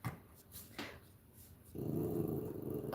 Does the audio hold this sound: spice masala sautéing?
no